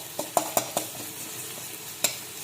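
Ginger and garlic being stirred in a pan while cooking a gongura liver curry, with a few sharp spoon scrapes and clicks over a faint, steady background hiss.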